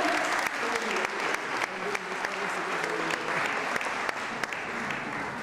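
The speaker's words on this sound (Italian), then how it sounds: "a cui va il nostro caloroso applauso perché sono presenti tutti con noi." A church audience applauds warmly and steadily throughout, a dense patter of many hands clapping in a reverberant space, with faint voices mixed underneath.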